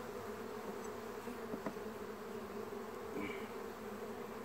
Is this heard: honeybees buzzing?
yes